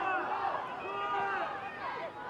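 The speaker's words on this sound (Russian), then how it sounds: "Скандирование болельщиков." Football fans chanting in the stands at a youth under-18 match between KSShOR and Sakhalin, a steady crowd roar with rising and falling voices throughout.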